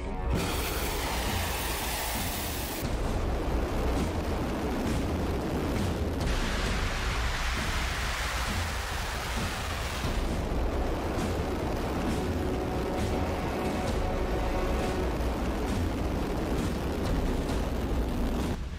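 A continuous barrage of missile explosions, roaring blasts and rumbling booms, loud and dense, with crackling bursts layered over a heavy low roar throughout.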